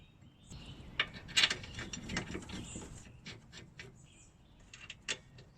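A ratchet wrench tightens the brake caliper bracket bolts on a Toyota during a brake rotor and pad replacement, giving quiet, irregular clicking bursts and metallic ratcheting nearby.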